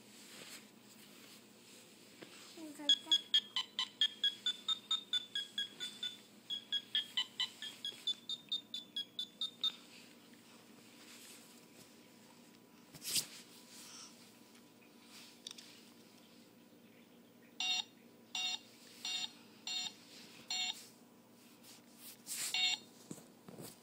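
A child's phone gives off a quick run of short, faint dialing beeps at a steady rhythm, followed by scattered groups of brighter beeps with quiet pauses between them.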